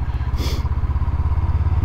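VOGE 500 AC retro naked motorcycle being ridden, its engine giving a loud, steady low throb with a brief burst of wind or rustle near the start, no voices.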